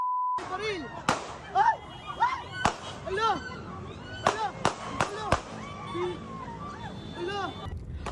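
Several sharp, loud cracks ring out from a handgun fired in a roadside fight on Marcos Highway in Antipolo City, each a single report spaced apart amid shouting and agitated voices throughout.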